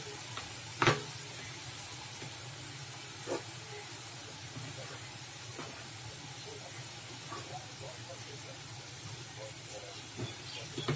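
Onions frying in a pan until browned for a spicy bitter gourd dish, a faint steady hiss broken by a sharp knock early on and a few soft scrapes later.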